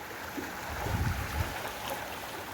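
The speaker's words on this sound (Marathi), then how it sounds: "फरशीच्या वरून पाणी चाललं आहे" Steady rushing floodwater flowing over a causeway, with a low churning rumble, swelling briefly in the middle, heard alone without voices.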